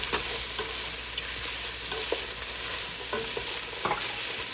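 Sausage, onions and celery sizzling in a pot, a loud steady fry with repeated spoon scrapes and taps as the mix is stirred.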